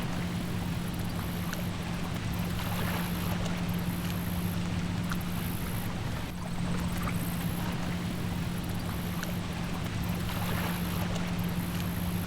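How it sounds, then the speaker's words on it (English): Water runs continuously through the canal in a Seville plaza, a steady broad rushing wash with a faint low hum underneath and no talking. "especially with the sound of the water moving through the canal."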